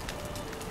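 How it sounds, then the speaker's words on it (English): A bird in Valheim gives a short, soft cooing call, like a pigeon or dove, close by over steady background ambience, with no talk. "Bird."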